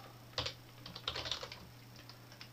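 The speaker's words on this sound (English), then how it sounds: "then what I can do is I can click up there into search mail, okay, and then just type" Typing a search query into Gmail on a computer keyboard, with a quick run of quiet, close key clicks in two short bursts over a low hum and no talking.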